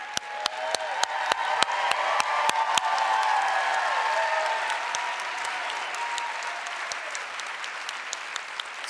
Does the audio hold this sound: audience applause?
yes